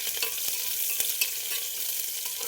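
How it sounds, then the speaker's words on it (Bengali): Crushed ginger and whole spices crackle in a pan for urad dal tempering, a bright close sizzle dotted with sharp spitting pops and a few stirring clicks. "দিয়ে মশলাটাকে একটু ভেজে নেব"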